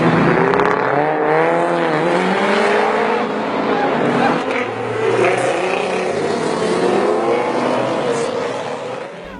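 Exotic cars at a nighttime street event in downtown Hoboken, loud overlapping engine revs and roaring passes with rising and falling pitch, a dense continuous wall of motor noise with some talk underneath.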